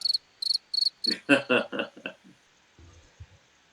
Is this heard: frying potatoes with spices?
no